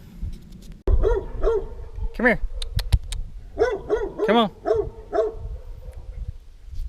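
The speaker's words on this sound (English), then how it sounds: "So glad the neighbor's dog came over just to bark at me for being in my own yard." A neighbor's dog barks repeatedly at a person working in their own yard during a DIY bucket seat install on a 1973–87 Chevy squarebody truck, with sharp close barks in bursts while a man calls to it.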